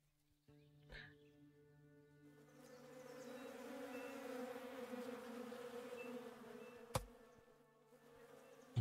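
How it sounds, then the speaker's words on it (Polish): Bees in the Above Snakes game keep up a soft, continuous buzz that swells and holds. Two sharp clicks cut in near the end. "Tu były te pszczoły."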